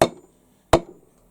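A heavy handmade single-handed blacksmith hammer with an ash handle lands two sharp, ringing blows about three quarters of a second apart, close and loud with quick decay and nothing else around.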